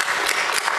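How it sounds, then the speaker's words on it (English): Audience applause at a talk on open source voice technology, a dense steady wash of many hands clapping together, loud and close, with no voices over it. "Round of applause for Emily."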